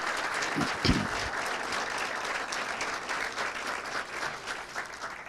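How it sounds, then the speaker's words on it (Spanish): Audience applause for Dr. Rafael Alburquerque at a book launch in the Dominican Republic, steady, dense clapping from a crowd that sustains throughout with a slight swell near the start. "debemos darle un fuerte aplauso al doctor Rafael Alburquerque por su trayecto profesional y político"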